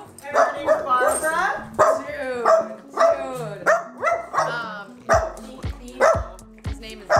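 A dog barks repeatedly at close range in a rhythmic run of loud barks and yips, while people talk over and between them.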